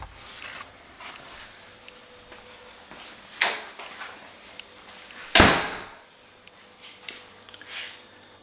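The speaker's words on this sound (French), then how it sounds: "Donc je rouvre la porte" A door being reopened in an octagonal kitchen on the ground floor of a converted pigeon house gives a sharp, loud bang mid-clip, with a softer knock shortly before it and faint handling noises around it.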